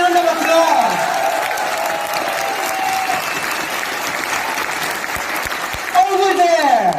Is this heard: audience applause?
yes